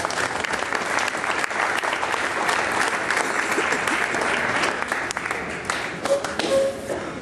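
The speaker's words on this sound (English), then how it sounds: "Let's give those guys a big round of applause." At an FFA banquet, a large audience claps steadily and loudly throughout, a dense wash of applause with no pauses.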